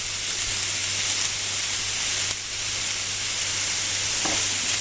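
Chopped green chilli and curry leaves sauté in a pan with a steady, close hiss of frying that carries evenly throughout, broken only by a faint tap or two, with no voices.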